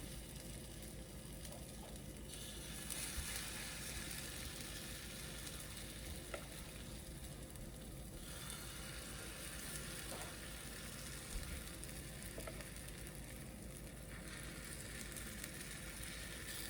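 Pancake batter poured into a hot pan in a heart shape, with chocolate chips to follow, gives a steady, quiet sizzle that carries through with small fluctuations and no voices.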